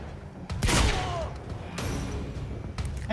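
A sniper rifle fires in the video game Quantum Break, one sharp loud shot with a sweeping tail, followed by lower rumbling effects and a fainter thud near the end.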